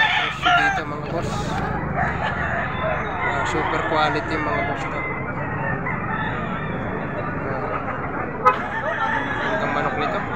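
Roosters crow repeatedly and loudly at a poultry market in Padre Garcia, Batangas, with clucks and bustle around them and someone talking over much of it.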